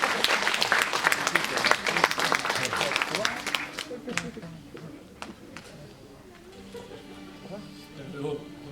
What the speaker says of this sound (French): Applaudissez-vous, allez-y.